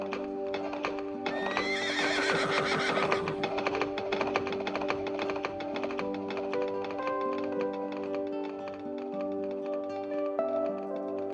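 Horses clatter steadily over city streets, their hooves clip-clopping in a dense rhythm with an occasional neigh rising above the clatter, close and busy with no voices.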